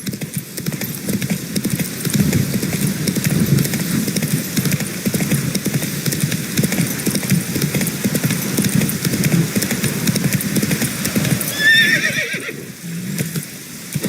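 Horse hooves in The Witcher 3 video game, a steady clip-clop of galloping carrying on loudly through most of the stretch, with a brief whinny and a higher cry near the end.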